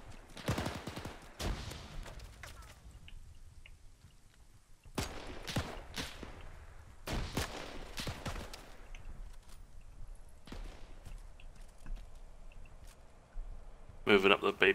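Gunfire in the World War II multiplayer mode of the video game ArmA 3, with several separate bursts and single shots spread across the span, some sharp and close, under intermittent background noise.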